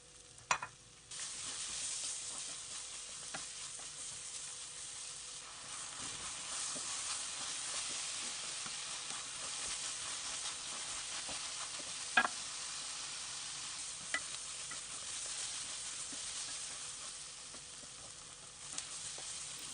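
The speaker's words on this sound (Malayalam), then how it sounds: "അപ്പോൾ ഉള്ളി ചേർത്തതിന് ശേഷം കുറച്ച് സമയം ഒന്ന് വഴറ്റി കൊടുക്കാം." Chopped onions sauté in a pan for chicken chattichoru, with a continuous soft sizzle and hiss throughout. Occasional faint clinks and scrapes of stirring break through the frying sound.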